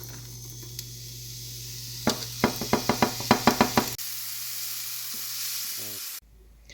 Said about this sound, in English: Put mushrooms in the pan.